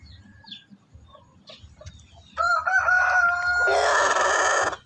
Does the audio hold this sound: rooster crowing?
yes